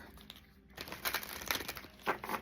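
Playing cards riffle and shuffle up close in a few quick crisp bursts of papery flutter, with no talking.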